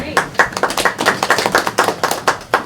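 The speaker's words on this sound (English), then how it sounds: "That's my wife clapping." A woman claps her hands at a housing forum meeting, a quick steady run of about fifteen sharp claps close to the microphone.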